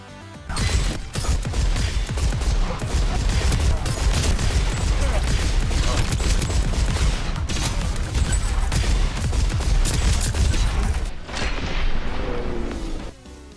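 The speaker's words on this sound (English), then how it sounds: "This godly revolver fires as fast as you can click on mouse 1." A revolver in the video game Deadlink fires in a rapid, continuous string of sharp shots with booming impacts, dense and loud almost throughout, briefly pausing near the end.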